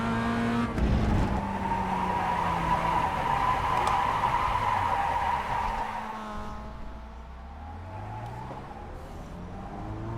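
A race car in the iRacing sim spins out, its tires squealing loudly and continuously against a steady engine roar, the pitch sliding lower as the car slows near the end.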